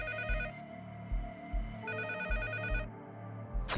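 A telephone rings twice in a studio setting, each ring a bright electronic trill with a faint pulsing backing beneath, suggesting an urgent emergency call coming in.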